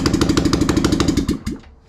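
A Yamaha Rhino 660 UTV engine runs with no muffler, a loud, close, rapid popping chug that revs briefly near the end and then cuts off.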